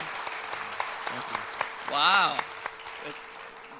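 Audience at a small community pitch event breaking into scattered claps, sparse individual hand claps across the clip with a brief spoken exclamation in the middle.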